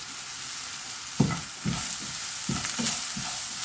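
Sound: onions sizzling while tempering in oil

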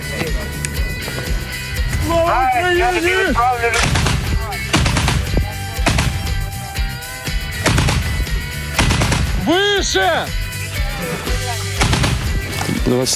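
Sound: gunfire from anti-aircraft gun training at range

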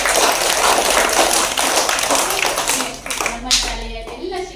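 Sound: loud applause welcoming the head teacher at school

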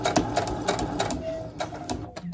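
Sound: needle going through heat-resistant wadding

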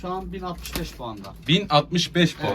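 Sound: racing pigeon cooing

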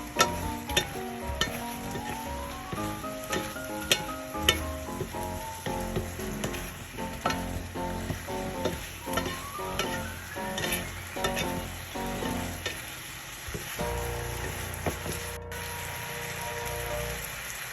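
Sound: tossing fried eel in sauce in a sizzling pan

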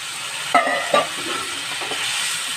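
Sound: tomato and water added to bottle gourd curry, sizzling

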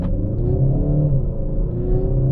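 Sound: Kia Sportage 1.6 diesel car accelerating at full throttle

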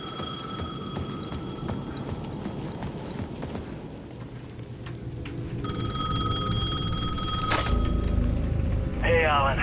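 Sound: payphone ringing in the video game Alan Wake II

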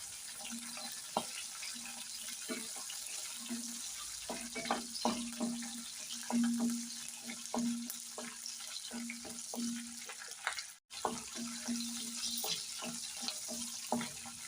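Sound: roasting green chillies and coriander seeds in a pan

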